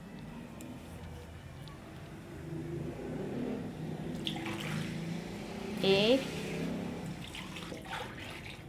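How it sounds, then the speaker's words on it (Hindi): Eight glasses of water are poured into a pot of nihari seasoned with chilies, turmeric and salt, a steady rushing pour under a voice talking in Hindi-Urdu, with a brief louder splash near the end. "8 गिलास पानी हमने इसके अंदर डाल दिया है"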